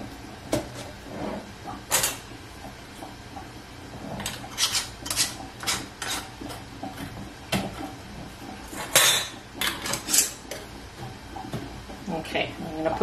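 Lids being screwed down on glass canning jars of raw-packed potato chunks before pressure canning, a series of sharp metallic clicks and scrapes spaced irregularly, close and moderately loud, with a voice talking between them.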